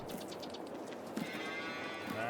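Cattle in a Farming Simulator 22 farmyard, with a faint low moo or two rising out of a steady ambient hum; no clear talking.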